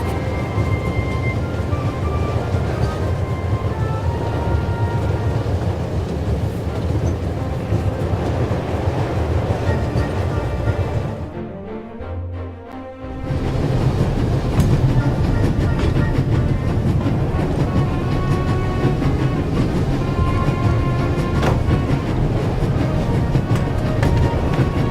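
Inside a moving train carriage in The Raven, a steady low rumble with faint rhythmic clatter runs throughout, dropping out briefly near the middle before resuming at full level.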